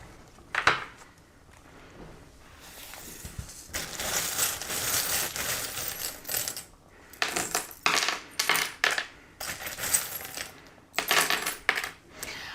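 Small divination charms are cast and shuffled onto a table, producing a run of bright metallic clinks and clattering bursts, some rapid and some spaced apart, close and fairly loud.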